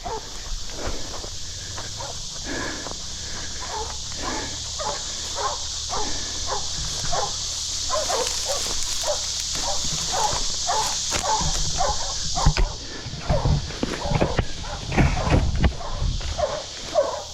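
Hunting dogs crash through thick brush while chasing wild hogs, with close rustling and scattered dog yelps and barks over a steady hiss of insects.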